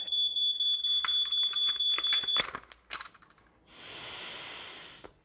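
Carbon monoxide detector alarm giving a steady series of high, piercing beeps, close and loud, then cut off, followed by scattered handling clicks and a long exhaled sigh.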